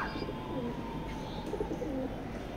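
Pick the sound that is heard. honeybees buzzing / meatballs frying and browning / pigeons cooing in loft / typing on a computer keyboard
pigeons cooing in loft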